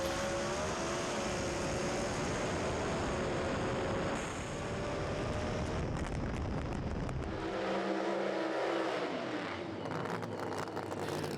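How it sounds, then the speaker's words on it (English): Pro Mod drag racing cars launch from the line and accelerate hard at a British Drag Racing Championship round, a dense, loud engine roar that fills the air before dropping away as they race off. "Both on the 2-step and away, pretty much together with the jump to Jimmy Allen"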